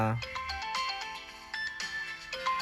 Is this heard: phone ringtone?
yes